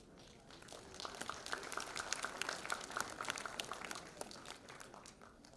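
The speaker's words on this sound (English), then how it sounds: "Give them a huge round of applause, audience." An audience at a school annual day celebration applauds a dance performance, many hands clapping in a dense, uneven patter that swells and then fades, faint and somewhat distant.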